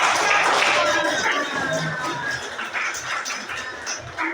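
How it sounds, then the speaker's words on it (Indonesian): Students in a classroom clap their hands together briefly, a muffled, uneven patter mixed with room chatter and voices throughout. "Kita tepuk tangan."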